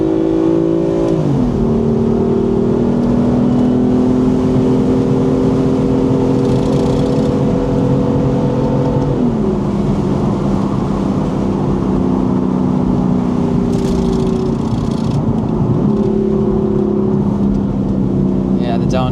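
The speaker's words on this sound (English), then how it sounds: "Yeah, the downshifts" A 2018 BMW M4 engine drones steadily from inside the cabin while cornering, with two sudden drops in pitch as it downshifts, loud and continuous under someone talking.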